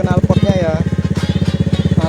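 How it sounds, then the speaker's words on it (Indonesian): A modified Honda Vario 110 scooter idles with an aftermarket exhaust, giving a steady, fast, even putter close by and loud from start to finish. "Ini suara dari idle knalpotnya ya"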